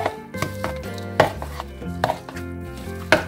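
Ingredients for a Mexican-style dinner are mixed in a bowl, giving a few irregular knocks and thuds of a utensil against the dish, close and fairly loud.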